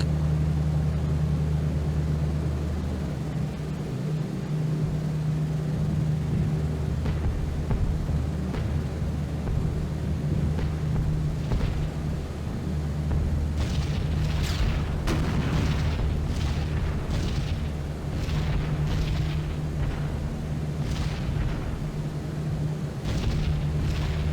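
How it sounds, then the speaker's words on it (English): Anti-aircraft flak bursts around a B-17 Flying Fortress bomber in a game, sharp explosive cracks scattered over the steady drone of the aircraft engines, growing denser in the second half, with no talk. "here comes the flak"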